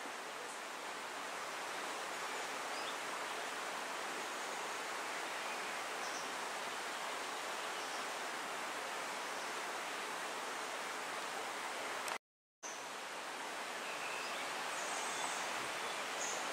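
The Bystrzyca Dusznicka river at Polanica-Zdrój flows in a steady, full broadband rush with no pauses, close and constant, with no voices over it.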